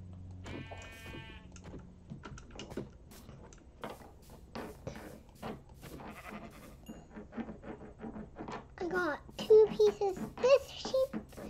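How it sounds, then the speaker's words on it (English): Minecraft sheep bleat repeatedly in short, wavering cries amid game sounds, while a voice talks over the gameplay. "Oh, I think you found just some sheep."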